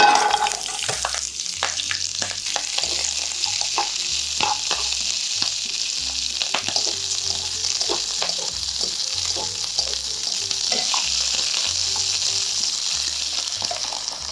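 Garlic scapes stir-fry in a little hot oil in a warmed pan, giving a loud, steady sizzle with intermittent scraping and clattering of a spatula as the scapes are tossed.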